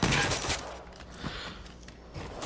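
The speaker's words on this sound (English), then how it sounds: "they're still shooting at me!" Sustained gunfire from the Generation Zero video game, a dense fusillade of rapid shots that stays loud and continuous throughout, with bursts swelling and easing.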